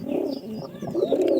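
Pigeons coo softly and close by, a few low rolling calls overlapping in a short, steady burst with no talking.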